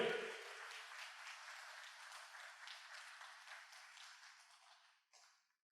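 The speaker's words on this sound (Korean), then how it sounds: "우리에게 믿음을 선물로 주신 하나님께 영광의 박수 올립시다" Church congregation at a Wednesday prayer meeting clapping in praise, a sustained wash of applause that starts loud, holds steady, then fades and cuts off after about five seconds.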